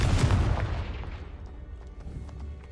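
A Confringo blasting spell bursts in Hogwarts Legacy: one loud, close, booming explosion with a heavy low thump that rolls away into a fading rumble, with no talk.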